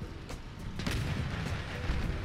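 Weapon hits explode in the vehicle combat game Crossout, with several booming blasts and rapid gunfire cracks over a constant rumble of engines and battle noise, heard at a moderate level.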